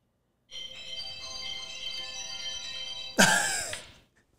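Phone ringtone ringing: a bright, steady electronic melody playing for a few seconds, close and clear, ending as a sharp rustle or bump cuts across it.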